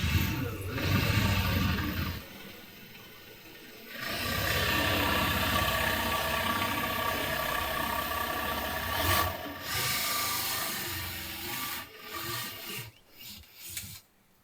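A large drill bit bores a hole in aluminum on an expedition catamaran, giving a loud sustained grinding whir that stops and restarts, with brief pauses and a few short clunks near the end.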